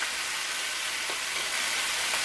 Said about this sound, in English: you can hear how they sizzle up so much better with all of that moisture gone